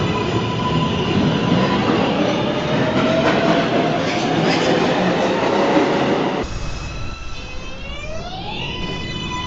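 New York City subway train running on the 2 line, a steady loud rumble of wheels on track with squeals, then a quieter stretch where rising and falling electric motor tones sweep upward as it changes speed.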